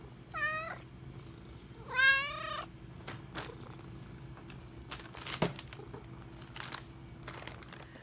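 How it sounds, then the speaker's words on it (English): Two close, clear cat meows, the second longer and louder, followed by quieter rustling and faint clicks indoors. "Yes, you good kitties."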